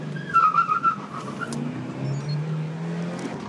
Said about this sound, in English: Here's a quick acceleration.